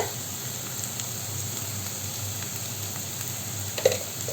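Masala with turmeric powder frying in a pan, giving a continuous low sizzle and hiss at an even level, with one faint clink of a utensil near the end.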